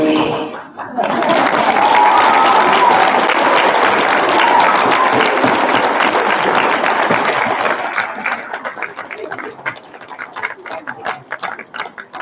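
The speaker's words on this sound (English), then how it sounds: "Can we give one more round of applause" After a choir concert song, the audience bursts into loud, sustained applause that holds for several seconds before thinning into scattered individual claps near the end.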